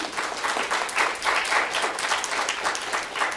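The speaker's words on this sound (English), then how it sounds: "A big round of applause for Dr. P." Indoor audience applause at a Comic Con talk, a short burst of steady, moderately loud clapping from a crowd.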